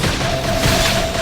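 A brief, dense barrage of gunfire in the video game Xenoblade Chronicles X, a continuous loud wash of rapid shots with a steady ringing tone running through it.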